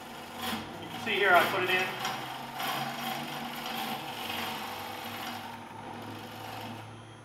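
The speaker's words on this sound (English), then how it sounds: "the cutter cuts very nicely at about 500 RPM" Woodturning lathe cutter taking wood off a spinning piece at about 500 RPM, a scraping, rasping cut that swells then settles into a steady grind and whir, with someone talking over it.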